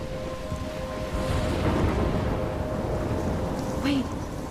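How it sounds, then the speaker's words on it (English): Game thunderstorm from Life is Strange: a steady roar of rain and wind with low rumbling thunder swelling midway, a constant dense wash of weather noise with faint tonal hums beneath. "I'm trapped in a storm?"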